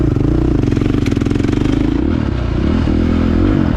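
A 2023 KTM MX motorcycle engine blares close and loud with a rapid pulsing beat, punctuated by sharp flame-out pops and crackles as the revs shift.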